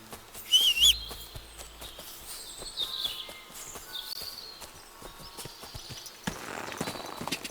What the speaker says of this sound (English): You're just an ordinary horse.